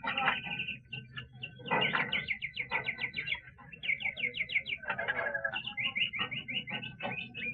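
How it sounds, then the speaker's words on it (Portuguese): Captured birds chirp busily and close by, rapid repeated tweets and trills in quick bursts with short pauses, continuing steadily throughout. "Pegamos uns pássaros lindos."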